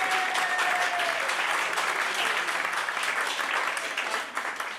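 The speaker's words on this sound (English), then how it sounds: "let's give him another huge round of applause" An audience claps steadily and enthusiastically, a dense wash of applause that holds its level throughout, with a faint whistle near the start.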